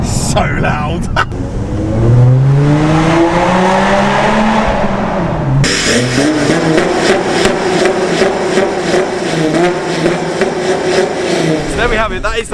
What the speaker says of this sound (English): That is the pretty crazy exhaust on my Audi A5